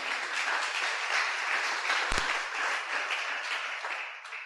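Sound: congregation applauding in church

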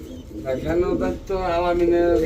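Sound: pigeon cooing

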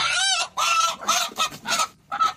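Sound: chickens clucking

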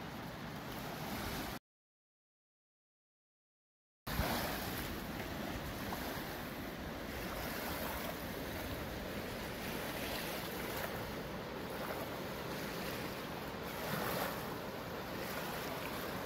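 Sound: waves on Pariah Beach on the Colorado River

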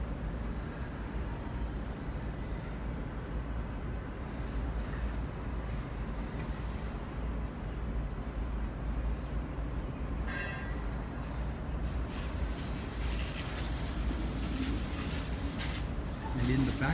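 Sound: Sydney Trains K set electric train at station platform

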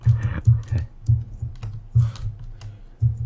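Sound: loud computer keyboard typing

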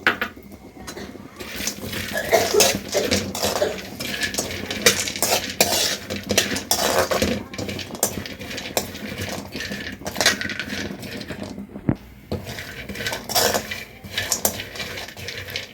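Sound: cashews and almonds roasting and stirred in a pan

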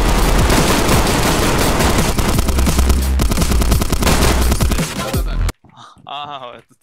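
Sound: gunfire in a video game

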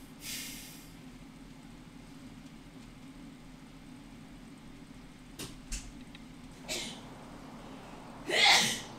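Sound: sneeze

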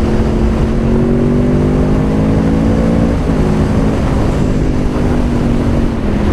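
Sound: sport motorcycle engine revving under throttle

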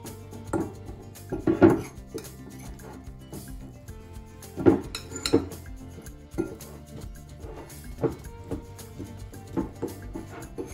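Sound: mixing grated potato with salt and flour

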